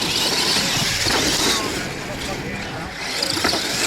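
Small RC racing cars buzz around a track during a points series race, a steady high whine of electric motors rising and fading as they pass, with a commentator talking loudly over the noise.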